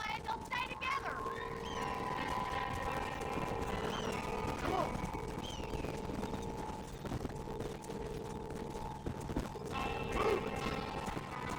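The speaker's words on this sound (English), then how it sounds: "Now my horse stops." Horse hooves clip-clop continuously across dirt in the Western video game Red Dead Redemption, mixed with cattle and ambient ranch noise, and a horse whinnies briefly; the sound stays fairly faint and steady throughout.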